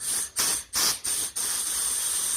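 Air is blown through the small holes of a carburettor on a 1968 Triumph T100C motorcycle, giving close, breathy hissing in three short bursts followed by one longer steady hiss.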